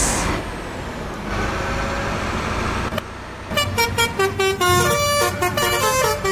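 A basuri musical horn on a bus plays a bouncy, remixed melody of rapid, tuned toots, loud and close, following an air brake hiss and engine rumble.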